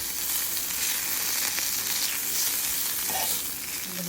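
Morel mushrooms and ramps sizzling in a pan as they caramelize, a dense, even sizzle with faint crackles, steady and fairly loud with no talk.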